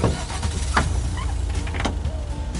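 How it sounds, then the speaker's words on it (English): A car's power window whirs open in the video game Lake, a steady motor hum running throughout with a couple of short clicks and knocks along the way. "Open up the window."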